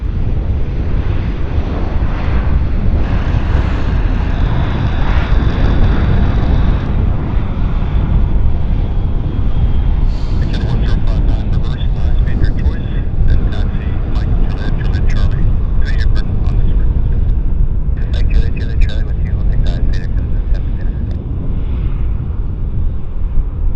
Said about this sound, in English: A non-eventful landing.